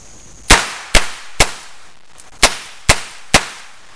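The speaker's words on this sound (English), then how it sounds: "I'm going to fire six rounds," Six sharp, loud blank shots from an Alfa starter pistol fired back to back, evenly spaced about half a second apart with a brief gap before the last three, each a crisp bang with a short decay and no talk.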